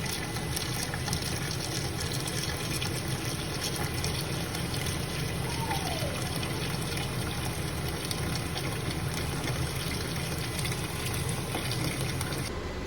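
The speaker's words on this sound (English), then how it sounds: "I'm gonna go ahead and fill it up with hot water." Hot water runs steadily into a pot of raw chicken, a continuous moderate gushing and trickling flow that stays even and close for the whole stretch with no talking.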